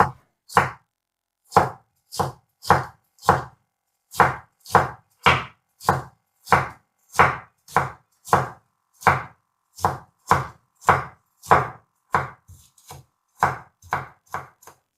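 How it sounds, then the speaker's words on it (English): A knife chops a small piece of ginger, about 2 centimeters long, on a cutting board in steady, crisp strokes, roughly two per second, close and clear, continuing for the whole stretch with no talking. "A piece of ginger about 2 centimeters long, cut it like this first."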